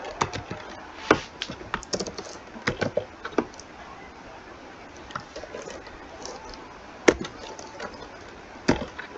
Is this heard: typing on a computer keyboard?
yes